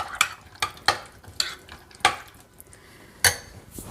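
Boiled black chickpeas stirred in a pan for an oil-free makhana snack: sharp spoon knocks and scrapes against the metal pan, six or so distinct strokes at an uneven pace, close and clear with no voices.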